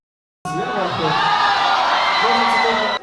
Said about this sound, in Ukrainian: Судячи по тому, що люди ось там кричать, позаду мене всі йдуть.